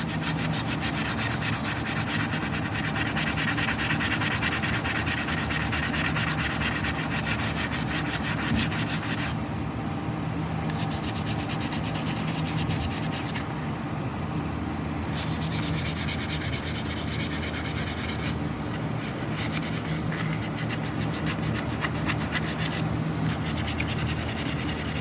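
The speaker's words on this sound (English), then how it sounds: "So I got a piece of 220 grit sandpaper, just folded it in half." Folded 220-grit sandpaper rubs peeling finish off a 2014 Nissan Rogue alloy wheel rim, a close, steady rasping scrub of continuous back-and-forth strokes with no talking.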